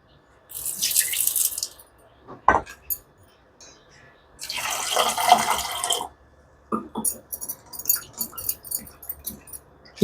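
Water sloshes and pours in several bursts as soaked grains are rinsed and drained, with light clinks of a vessel between pours.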